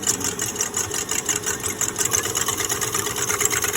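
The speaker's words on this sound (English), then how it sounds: "When you start with the egg, don't forget to lock your stand mixer and make sure it is locked properly at the bottom." A stand mixer whisks eggs for a flourless almond chocolate cake, its motor whirring steadily and loudly up close with a fast, rattling hum and no talking over it.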